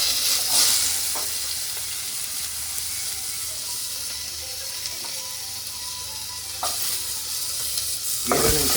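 Onions fry in hot oil with mustard seeds, a close, continuous sizzle and hiss broken by a few sharp spatula scrapes and clinks against the pan.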